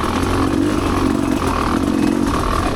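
Off-road vehicle engine lugging low in third gear over a rough trail, a steady, loud, rumbling drone with clatter from the ride running unbroken throughout.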